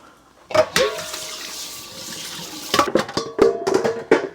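Shredded potatoes rinsed in water for hash browns, with splashing and running-tap sounds beginning after a quiet start and continuing with short bursts of sloshing and clatter near the end.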